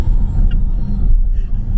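A car accelerates hard at about 70 mph on a road, its engine giving a loud, steady, close rumble that holds throughout the short stretch with no voices.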